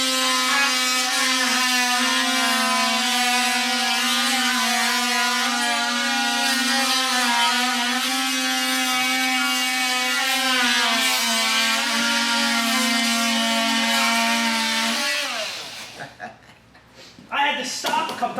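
DeWalt and Makita oscillating multi-tools cutting through wood together, a loud steady high-pitched buzzing whine that runs without a break for about fifteen seconds, then cuts off, leaving faint scattered knocks.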